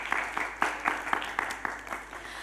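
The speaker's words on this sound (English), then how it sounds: "Can you please give a big round of applause to all of us here?" Conference audience at an international hospitality entrepreneurship and innovation event applauds, a modest scattering of claps with distinct individual hits, moderately distant and fairly thin over a short stretch.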